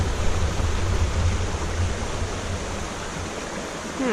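Water of a creek in the Warburton redwood forest rushes steadily and close by, a dense continuous broadband wash that holds even and alone throughout.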